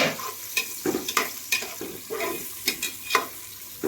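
A spoon stirs food frying in a pan, with a regular run of scraping strokes about every half second over a steady sizzle, close and moderately loud, with no talk.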